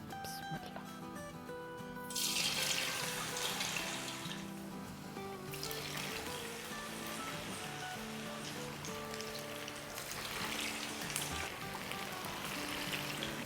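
Aloo laccha kabab pakoras drop into hot oil over a medium flame, and a broad crackling sizzle swells after about two seconds and keeps going steadily under faint background music.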